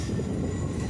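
A Class 450 South Western Railway electric train with DC motors departing London Waterloo, a loud continuous rumble of wheels and traction noise at close range with no break.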